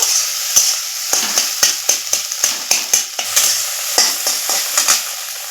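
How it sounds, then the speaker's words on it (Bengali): Beaten egg scrambled and fried in a wok, broken into small crumbly bits with a spatula: a steady high sizzle broken by about a dozen sharp scraping stirs and clicks, close and loud, with no voices. "আমি ডিমটা এইভাবে ছোট ছোট করে খুঁটির সাহায্যে ভেঙে নিচ্ছি এইভাবে ঝুরঝুরে করে নেব"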